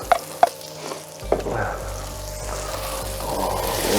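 Squid with onions, shallots and garlic sizzles in a pan over a rocket stove: a couple of sharp clinks first, then a steady close frying hiss that grows a little toward the end.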